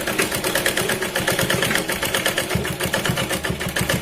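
A sewing machine runs steadily, stitching piping onto a katori blouse, its rapid needle clatter continuous and close with no pauses or voices.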